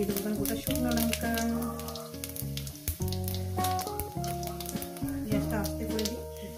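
Whole dried red chillies sputter in hot oil, a crackly hiss heard beneath loud melodic background music, with scattered pops across the span.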